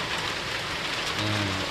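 Steady rain pours down during the rainy season in Lampang, Thailand, a dense continuous hiss of drops on surfaces, fairly loud and unbroken, with a low rumble joining in near the end.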